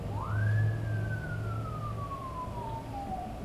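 A single rising-then-slowly-falling siren wail over a low steady rumble, a vocal imitation of a passing ambulance siren.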